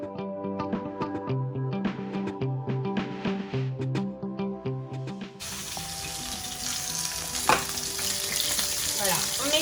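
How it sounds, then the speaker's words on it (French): Beef pot roast browns in a hot pan, with steady sizzling and frying crackle that starts after a stretch of other sound. The sizzle stays moderately loud and close, with occasional sharper pops and clatter as the meat is turned. "Take the time to really well golden it on each part."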